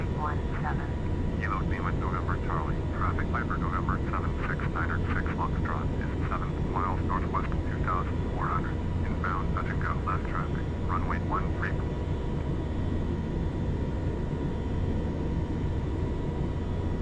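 Boeing 707 jet engines in Flight Simulator X: a steady, continuous engine drone holding at a constant level for the whole stretch, with a voice talking over it for much of the time.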